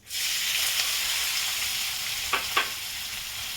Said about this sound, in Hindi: जीरा और हींग अच्छी तरह भून चुका है। इसमें मैं प्याज डाल रही हूँ।